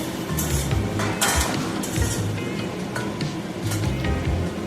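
Vegetables frying in a pan for a panch phoron dalna, a continuous close sizzle broken by stirring scrapes and light clinks of utensil on metal, no voices.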